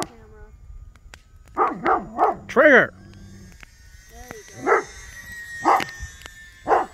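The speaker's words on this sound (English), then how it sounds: "Dog going." A dog barks repeatedly nearby in short, uneven bursts at night while a small E-flite UMX Turbo Timber model plane is flown, and a person calls out once in between.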